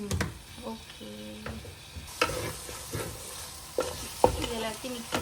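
A spoon stirs a mutton biryani mixture of meat, rice and curd in a pot, giving repeated scraping strokes over a soft sizzle, close and fairly quiet, with a few sharper knocks of the utensil.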